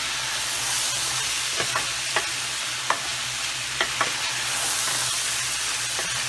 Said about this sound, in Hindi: इसको भी 2 मिनट तक भूनेंगे